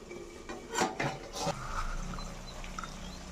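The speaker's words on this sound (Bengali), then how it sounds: "তো এবার আমি ঢাকনাটা উঠিয়ে দেব।" A lid lifted off a cooking pot gives a few sharp metallic clinks and clatters, followed by soft, quiet bubbling and simmering from the pot.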